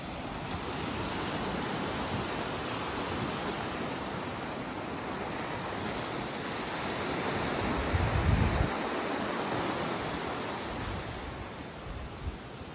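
Ocean surf washes continuously onto Salybia Beach in Trinidad, a broad steady roar with a slight swell in the middle and some wind noise on the microphone, with no voices.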